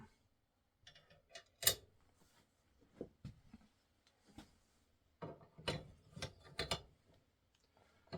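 A rifle bolt being worked and closed on a barrel go gauge, with faint, sparse metallic clicks and clacks close up, then a quicker cluster of sharper clicks.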